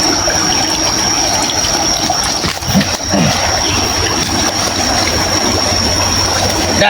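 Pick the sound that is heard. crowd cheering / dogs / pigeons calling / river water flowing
river water flowing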